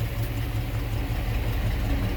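A 1949 Cadillac Series 61 two-door Sedanette idles steadily from the rear, its low, even engine rumble holding without change throughout.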